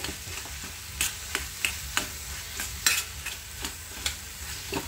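Carrot halwa stirred in a pan after jaggery and cardamom powder go in, a spoon scraping and knocking in irregular taps over a soft sizzle, fairly close and quiet, no voices.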